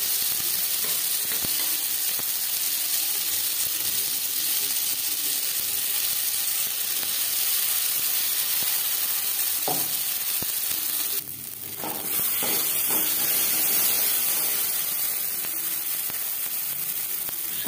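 Spices fry in a spoonful of mustard oil in a wok, producing a continuous bright hiss and sizzle with a few faint clinks, close and without speech.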